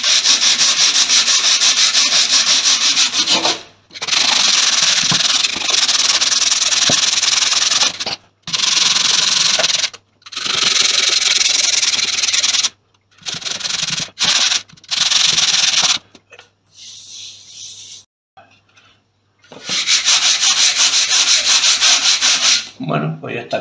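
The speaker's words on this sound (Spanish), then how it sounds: "Lija P80 y vamos a ver qué tal lija el yeso." Coarse P80 sandpaper on a hand sanding block rasps steadily across plaster in long back-and-forth strokes, pausing briefly between bursts.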